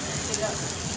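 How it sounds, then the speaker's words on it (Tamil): Steady rain at Courtallam, heard for about a second as a close, even hiss with no distinct drops, and a voice faintly underneath. "என்ன மழை பெய்யுதுனே"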